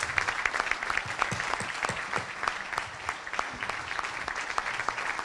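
An audience applauds for a company and its workers at an Italian news event, with lively, irregular clapping and individual sharp claps standing out against the steady crowd wash.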